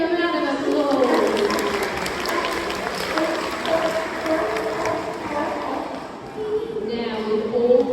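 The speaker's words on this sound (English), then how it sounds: "Give him a round of applause." An audience at a sea lion show claps steadily throughout, a dense, continuous patter of many hands with crowd murmur underneath.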